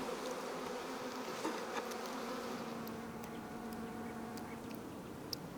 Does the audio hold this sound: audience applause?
no